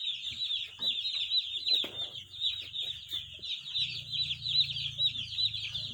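A batch of about 450 newly arrived chicks peeps in a constant, shrill chorus of overlapping chirps, with a few soft knocks and a low hum rising underneath partway through.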